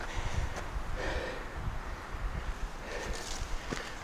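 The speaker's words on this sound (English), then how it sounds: "It's been pretty breezy." Breeze blows through pine trees along a canyon rim on a Colorado day hike, a steady rushing hiss with gusty swells and some wind buffeting on the microphone.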